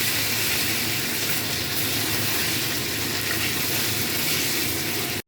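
Ginger paste sautéing in a pan for Bengali-style shahi paneer, a loud, dense, continuous sizzle that fills the whole stretch and cuts off abruptly at the end, no one talking.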